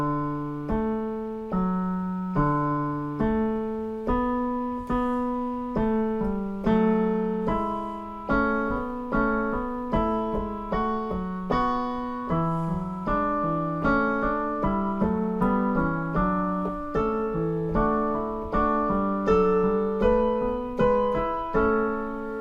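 A three-voice fugue exposition plays back in a clean synthesized tone, with melodic lines entering one after another and then interweaving in steady, evenly articulated notes with no speech.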